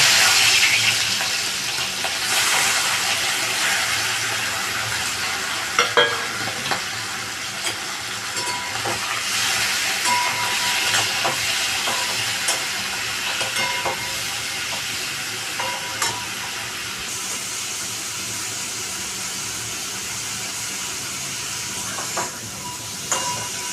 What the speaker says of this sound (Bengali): তেল গরম হয়ে গেছে, আমি এবার চিংড়ি মাছটা ছেড়ে দেব।